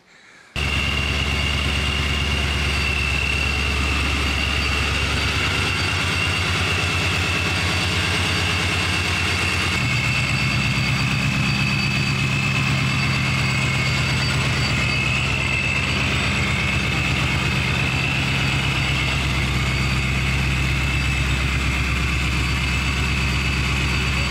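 A Procharged Ford Mustang GT idles steadily and loudly close by, with a low rumbling drone and a constant supercharger whine, holding even throughout with one small shift in pitch partway through and no talk.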